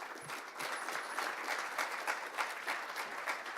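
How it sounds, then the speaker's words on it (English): Audience applause welcoming speaker Artie Woodbury at a talk, steady clapping from a room of people that keeps an even level throughout, no voices over it. "Would you please do me the pleasure of joining him with a round of applause?"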